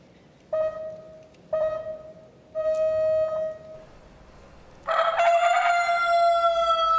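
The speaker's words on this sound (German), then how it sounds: "es war ein eindeutiger Hahnenschrei" A recorded rooster's crow played as a contest sample: three short even crows close together, then a louder, longer crow that ends abruptly, alone with no talk.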